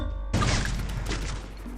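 Gunfire in the shooter game Free Fire: a sudden sharp burst of shots breaks in early, followed by a rattling stretch of rapid fire over steady game background noise.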